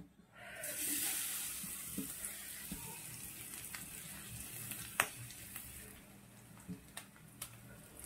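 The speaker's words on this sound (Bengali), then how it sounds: "এটা একটু ভালোভাবে ভেজে নেব, নারকেলকে ভেজে নেব একটু।" Grated coconut fries in oil in a wok, giving a soft, steady sizzle with a few small crackles and pops, fairly faint and without voices.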